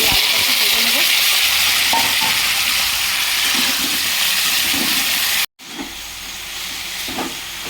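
Thinly sliced potatoes fry in hot oil in a kadai tempered with nigella seeds and dried chili, making a loud, steady, close sizzle that cuts out briefly, then resumes.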